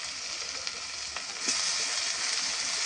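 Poultry chicken sizzling loudly in hot mustard oil with onion, garlic, ginger and chili, a steady hiss that swells and grows denser partway through as the meat goes in, with no talk.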